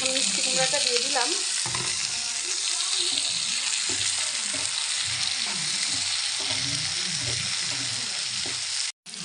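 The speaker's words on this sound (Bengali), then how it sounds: "পেঁয়াজটা একটু ভেজে লাল করে নেব, তারপরে মিষ্টি কুমড়াগুলো দিয়ে দেব" Pumpkin frying in a pan with onion and chili, giving a loud continuous close sizzle with a busy crackle, and a brief cutout near the end.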